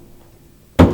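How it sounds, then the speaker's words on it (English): A single muted Ka or Pa stroke on a frame drum played lap style, a short dull thud near the end after near silence. "And lastly, we have Ka or Pa, the muted sound."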